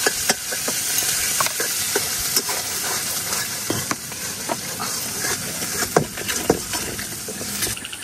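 Onion and garlic frying in a pan make a steady, close sizzle and hiss, with occasional stirring clicks and taps throughout.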